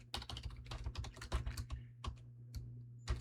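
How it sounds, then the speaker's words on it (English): Rapid, irregular keystrokes on a computer keyboard as a password is entered, clattering close and clear over a steady low hum for about three seconds with no voices. "I'm going to put in a super secure password,"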